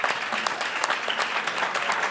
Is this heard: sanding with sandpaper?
no